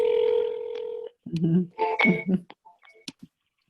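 Telephone dialing tones play during live sales calls: a steady dial tone holds for about a second, then stops for a burst of short keypad beeps and clicks mixed with brief voice-like sounds.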